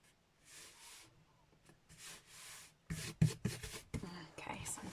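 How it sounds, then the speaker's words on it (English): Thick white cardstock, already cut and scored, is folded and burnished, giving soft rubbing and sliding strokes in separate bursts that turn louder, with sharper handling and tapping sounds near the end. "going to fold some thick Whisper White cardstock. I've already cut and scored it. I'm just burnishing it."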